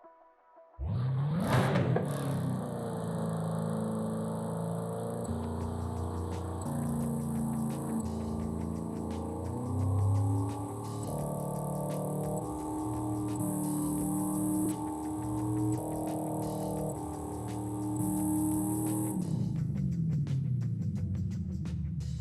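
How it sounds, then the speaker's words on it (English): A car with a race exhaust in Forza Horizon 5 revs hard as if on a dyno and holds at high pitch for a long stretch, its tone wavering and climbing, then drops back to a low idle. "I'm going to try to rev it up like it's on a dyno."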